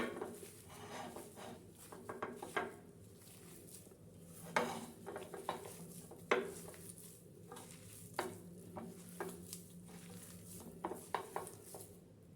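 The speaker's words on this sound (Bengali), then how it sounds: "এখন সব উপকরণগুলো আবারও ভালো করে মাখিয়ে নেবো" Hand-mixing cutlet ingredients with black cumin and turmeric powder in a bowl gives soft, irregular squelching and patting, with sharper taps now and then, close and fairly quiet throughout.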